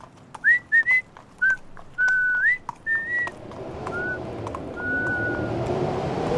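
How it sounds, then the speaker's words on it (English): A person whistles a halting tune of short rising and sliding notes near a tree at night, each phrase clear and close, before a rising rush of wind-like noise takes over. "As Ichabod approached this fearful tree, he began to whistle."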